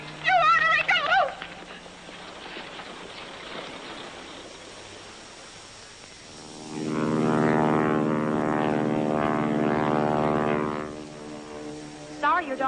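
A propeller airplane takes off, its steady engine drone building loud and close with strong harmonic tones for several seconds before easing off; brief voices are heard at the start and end.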